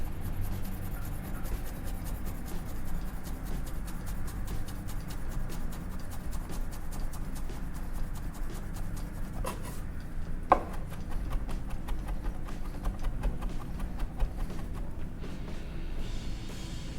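A knife taps steadily on a cutting board while leaves are cut smaller for a tropical salmon carpaccio, a quick, even run of light close chops over soft kitchen background, with no talk.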